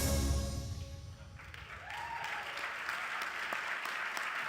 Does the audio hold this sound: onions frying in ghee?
no